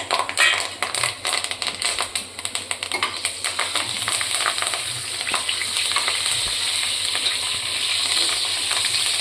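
Whole spices crackle and pop loudly in hot oil, then settle into a steady, dense sizzle that continues throughout.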